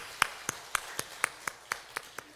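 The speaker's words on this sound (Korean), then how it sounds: "우리 하나님께 영광의 박수 돌리겠습니다." Church congregation during a Sunday morning worship service claps at a slow, even pace, about nine crisp claps spaced roughly a quarter second apart, moderately close, with no talking over them.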